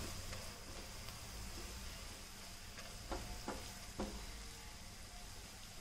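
Finely chopped onion and carrot fry in a pan for gravy Manchurian, giving a steady, even sizzle broken by a few quick scraping stirs.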